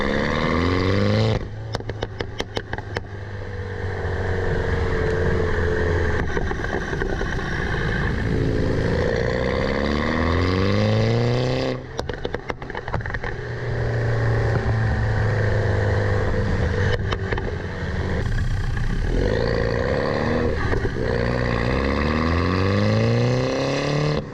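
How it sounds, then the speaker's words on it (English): Mini F56 JCW with a JB4 tune, its exhaust roaring loud and close through repeated rising revs and gear changes, with crackles and pops on the overrun between pulls. "we'll get some exhaust shots now. Let's see what the difference in sounds are"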